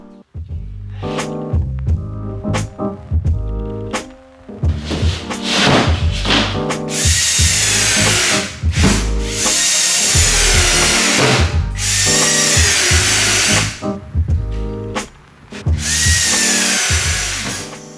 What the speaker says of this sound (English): Lots and lots and lots of screws in order to secure the Durock cement board.